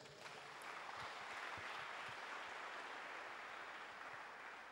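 A church congregation claps together in sustained, even applause that holds steady throughout, faint and with no voices over it.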